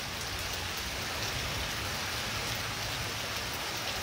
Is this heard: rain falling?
yes